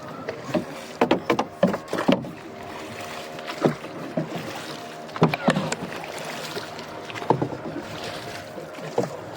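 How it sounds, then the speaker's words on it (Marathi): A traditional wooden boat is rowed by oar with its engine shut off, giving clusters of close splashes and creaks at uneven intervals over a low background hum. "आता इंजिन सोडल्या आणि आता परत जुन्या पारंपरिक व्होलो मारता"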